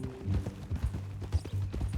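Horse hooves clip-clopping at a steady walking pace in the Red Dead Redemption 2 video game, fairly close and moderately loud over a low background hum.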